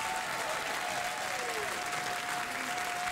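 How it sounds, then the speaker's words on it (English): Sustained applause from a late-night talk show studio audience, dense clapping at an even level throughout, with no talking over it. "They applaud when I tell them they can't have something."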